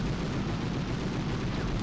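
A dense, roaring blast from a Medal of Honor video game explosion, loud and broadband, filling the whole short stretch with rumbling debris-like noise.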